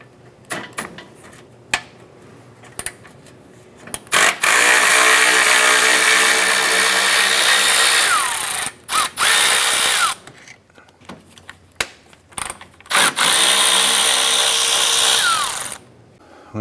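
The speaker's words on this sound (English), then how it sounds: "Using a 10mm socket, we're going to go ahead and remove our lower fan bolts here." A power tool with a 10mm socket spins out the lower fan bolts on a 2004-2008 Acura TL: loud, close whirring bursts of several seconds each, separated by short pauses and clanks.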